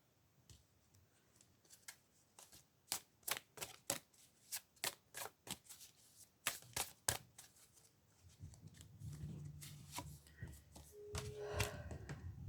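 A tarot card drawn from a deck during a card reading, heard as a run of sharp, close card snaps and flicks in quick irregular succession, then softer rustling with a faint hum underneath.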